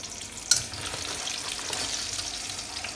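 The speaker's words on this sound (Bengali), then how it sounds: "ভেজে যাচ্ছে, শেষ আর হচ্ছে না।" Pakoras frying in hot oil give off a soft, steady sizzle with light stirring clatter and one sharp tap near the start.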